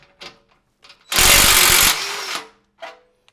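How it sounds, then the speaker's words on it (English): An impact driver with a socket pulling a punch through thin steel for a Cat6 jack, a loud continuous hammering burst of about a second with a few short clicks before and after. "we will use an impact driver with a socket attached to it to just pull this through"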